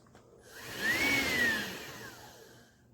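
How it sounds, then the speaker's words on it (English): A Hoover ONEPWR Evolve Pet Elite cordless stick vacuum cleaner whirs up from quiet to a steady whine and then winds back down, a short, moderately loud run of about two seconds with no talking. "I am now going to turn the vacuum on."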